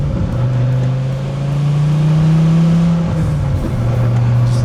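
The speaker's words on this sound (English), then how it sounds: "You get some nice burbles off throttle." A third-generation Dodge Viper's big-displacement pushrod engine burbles and revs nearby, its tone rising and easing off, with a loud, throaty drone and light crackles on the overrun.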